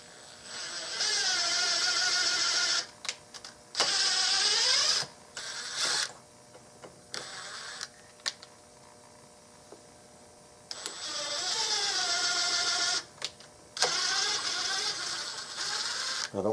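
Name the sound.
waxed screw being run in to cut threads in gun stock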